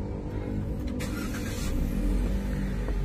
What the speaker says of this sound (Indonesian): tekan engine start button yang ada logo GR-nya ini untuk menyalakan mesinnya